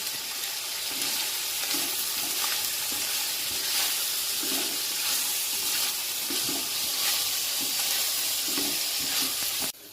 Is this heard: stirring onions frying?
yes